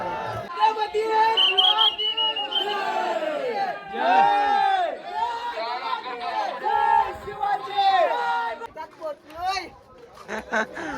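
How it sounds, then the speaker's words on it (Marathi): A huge crowd throngs Raigad fort for Shivrajyabhishek celebrations, many voices chanting and shouting in rising and falling waves of rhythmic cries, with some chatter and a whistle among them. "एवढी गर्दी आहे, चिकार गर्दी."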